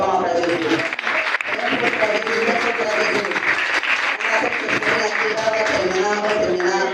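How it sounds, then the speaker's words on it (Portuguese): Church congregation applauding, dense continuous clapping from a crowd filling the room, loud and sustained throughout. "Uma salva de palmas para Jesus."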